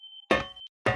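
Flashbang in a monkey horror game: a short ringing tone is cut off by a sharp, loud metallic burst, followed by a brief high ting and then a second abrupt hit.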